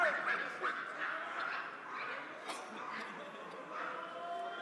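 A large esports crowd at an R6 Siege major final in Copenhagen yaps and barks like many small dogs, a dense continuous chorus of sharp yelps spread across the arena, loud and sustained without a clear speaking voice on top.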